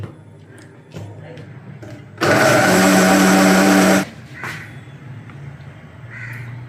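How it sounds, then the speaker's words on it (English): A mixie blender grinds cooked palak (spinach) in a loud, steady burst of about two seconds. Crows caw intermittently in the background before and after. "Now I am going to grind the palak."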